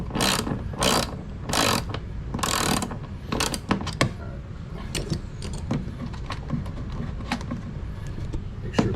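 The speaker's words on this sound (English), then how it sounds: "the next step is to remove this bolt here on the side" A ratchet wrench turns a bolt on the side of a 2024 Yamaha FX Cruiser SVHO jet ski, a series of loud close rhythmic clicking bursts followed by faster lighter ratcheting and metallic clinks.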